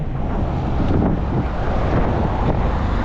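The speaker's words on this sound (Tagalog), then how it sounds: "Sarap namnamin ng hangin ngayon" Steady wind buffeting the microphone at Sky Ranch, the highest point in Tagaytay, a constant low roar with gusty rumble throughout.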